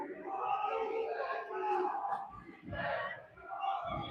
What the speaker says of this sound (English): So our younger boys cheering at the far end of the pool for our kids here.